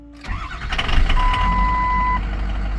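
A 2003 Ford F350 with a 6.0 Powerstroke diesel, just fitted with a new IPR valve, fires up after a brief crank and settles into a loud, rough idle nearby, with a steady whine running over the engine note.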